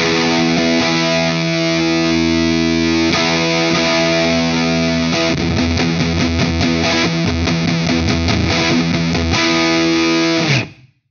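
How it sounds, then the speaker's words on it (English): A distorted electric guitar through a Wampler Ratsbane distortion pedal strikes a power chord and lets it ring thick and sustained, then restrikes in choppy rhythm before cutting off abruptly. "let's have a listen just to a power chord."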